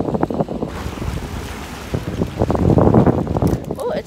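Lake waves lapping at the shore under gusting wind, with rough wind buffeting on the microphone and a surging wash of water that grows louder toward the end, heard outdoors close up.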